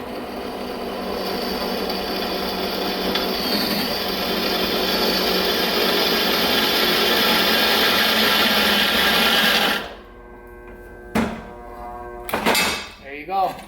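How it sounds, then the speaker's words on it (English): A drill press bores holes in a steel flex plate, giving a continuous loud grinding whir for about ten seconds before winding down, followed by brief clunks and scraping with a voice talking. "We're going to drill some holes."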